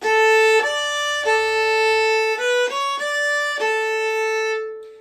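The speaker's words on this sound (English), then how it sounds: "So it would be very connected, it would be legato" A viola plays a smooth, connected legato melody, notes flowing into one another without breaks, close and steady with no talking.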